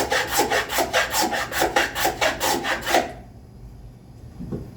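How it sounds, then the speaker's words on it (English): A hand plane takes shavings off a wooden back panel for a spice rack, with about a dozen rhythmic, rasping strokes, close and clear, then quiet. "So I'm going to take just a few shavings back here, but I'm going to take most of it off of this front part."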